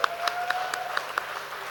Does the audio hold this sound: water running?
no